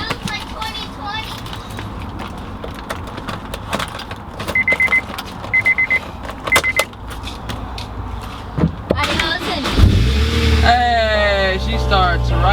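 A Honda S2000 cranks and fires up after a jump start, then settles into a steady idle near the microphone, with clicks and jingling before it and people talking throughout.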